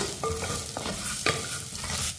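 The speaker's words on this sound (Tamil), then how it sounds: "லைட்டாக வதக்கி விட்டுக்குருவோம்." Steady sizzling of onion and curry leaves sautéing in a hot pan, with a spoon scraping and stirring now and then, close up.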